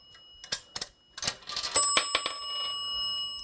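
A nickel drops into a vintage pay phone with a few light clinks and rattles, then one clear bell ding that rings on and fades slowly.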